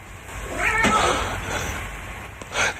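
A cat meows in a drawn-out, wavering cry near the microphone, followed by a second, shorter meow, with no talking over it.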